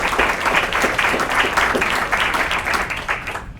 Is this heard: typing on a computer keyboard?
no